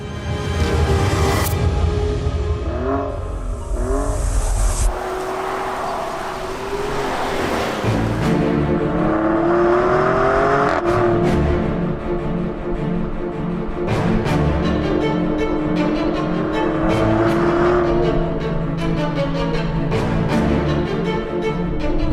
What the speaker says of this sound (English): the engine start-stop button is looking right at you, waiting to be pressed. And when it is,